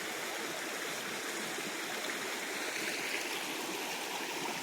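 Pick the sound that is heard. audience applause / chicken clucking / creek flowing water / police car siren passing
creek flowing water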